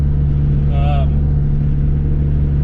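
A Chrysler Conquest cruises on the road, with a steady, loud low engine drone and road hum heard from inside the car, and a brief voice partway through.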